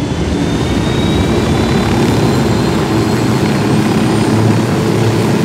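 A helicopter in Ghost Recon Wildlands flies with a loud, constant rotor and engine roar that holds steady throughout, heard close from the cockpit with no talking.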